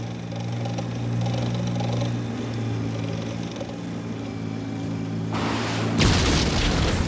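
A war film battle scene with a steady, heavy low rumble of combat, followed by a sharp, loud blast near the end.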